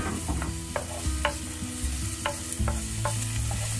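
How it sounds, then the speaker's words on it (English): Shallots sautéing in hot oil over medium heat, a close, steady sizzle broken by regular stirring knocks and scrapes about every half second, with no one speaking. "On medium heat, I added some oil and now in goes the shallots. Saute this until they're nice and soft."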